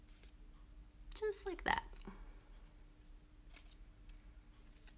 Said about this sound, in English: you kind of just fold it in half a little bit and then trim it